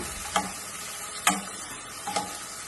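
Onions frying in cow ghee in a pan, a low steady sizzle broken by three brief scrapes of a spoon stirring, close and without speech.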